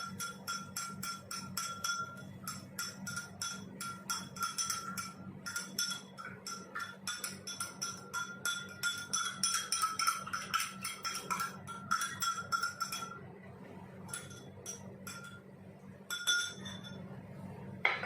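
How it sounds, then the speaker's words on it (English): A spoon stirs honey in a glass during a home test for adulterated honey. It sets off a quick, steady run of bright clinks against the glass that lasts throughout, over a low background hum. "So now I'll again stir it well."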